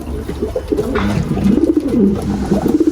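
Domestic pigeons cooing near a loft: a continuous stream of soft, throaty, rolling coos from several birds, fairly close and steady throughout, with no talking.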